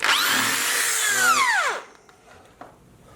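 An electric drill bores out a dowel at the tip of a shaft, a steady loud whine that sweeps down in pitch as it bogs, then cuts off, leaving a quiet room and a single small knock.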